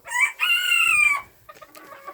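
Bantam hens and young roosters cluck and call close by, a loud harmonic squawk held for about a second, followed by softer scattered clucks.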